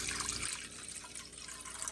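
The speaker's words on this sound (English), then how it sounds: "Now I'm pouring in 2 cups of water" Water pours steadily into vinegar for a cucumber and banana pepper pickling brine, a soft continuous splashing trickle, quiet and close.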